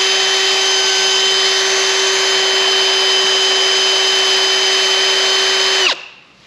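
A power drill bores through metal at low speed, a steady loud whine with a constant pitch that holds for about six seconds and then abruptly spins down and stops.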